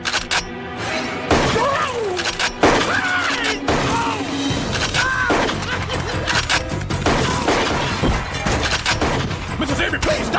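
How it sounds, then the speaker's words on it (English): Cartoon gunfire from an elderly woman shooting, a rapid volley of bangs and shattering crashes at close range, with frantic voices shouting over the shots. "Mrs. Avery, please stop shooting!"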